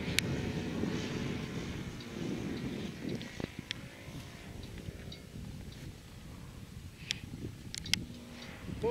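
RC airplane, a Vstick 60 powered by a Saito 80 engine, flying: a steady, fairly distant engine drone with wind buffeting on the microphone and a few sharp clicks near the end.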